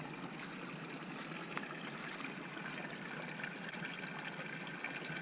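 Steady spring water pours from a pipe at Crystal Campground in Norman, Arkansas, a constant close splashing, trickling flow with no voices.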